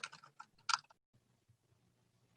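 Rapid clicks of keys on a computer keyboard as an email address is entered on a sign-up page, a brisk close burst for under a second, then near silence.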